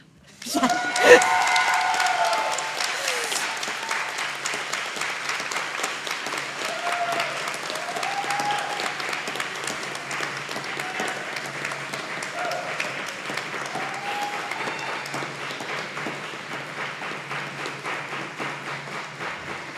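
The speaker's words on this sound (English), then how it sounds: "Now you can clap" Sustained applause at a school board meeting in a large room, steady clapping that swells at the start and carries on evenly for a long stretch.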